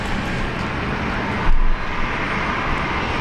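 Jetstar airliner arriving at Brisbane on approach from Tokyo Narita, a constant distant jet rumble with a short louder swell partway through, no talk.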